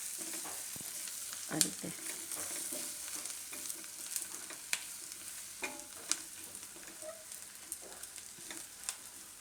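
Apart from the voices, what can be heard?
besan (gram flour) roasting in hot oil with onions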